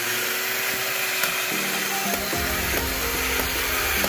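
A 1962 Charley Weaver battery-operated tin toy runs steadily with a continuous buzzing, whirring motor hum and faint mechanical rattles. The sound holds at an even level throughout, with no talking.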